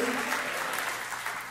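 Enthusiastic congregation applause during a church sermon, a dense, steady clapping filling the room from start to finish.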